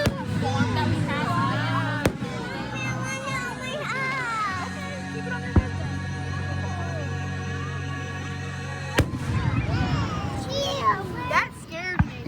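2025 fireworks go off with several sharp, scattered bangs, a few seconds apart, heard under near, constant chatter from children and an adult.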